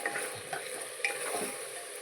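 Chicken biryani ingredients sizzle in oil in a pot while a utensil stirs them with scraping strokes, close and steady throughout with no voices.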